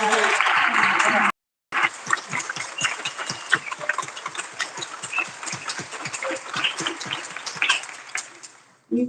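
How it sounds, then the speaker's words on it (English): Applause from an audience at a live-streamed civic event, a dense patter of clapping that fills most of the stretch after a brief gap near the start, fairly close and steady, with a few voices mixed in. "let's have another round of applause for these"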